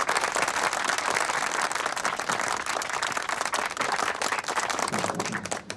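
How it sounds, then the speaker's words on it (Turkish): Dense, continuous applause and clapping from a group in a scene of a Turkish drama, loud and sustained throughout with no talk over it. "Bravo dayı, alkış."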